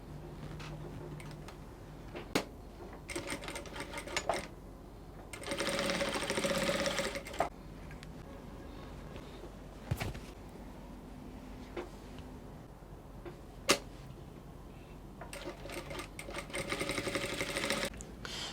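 A sewing machine stitches a belt onto a wrap dress bodice in short, bright bursts of whirring, several separate runs with quiet gaps and soft handling clicks between them.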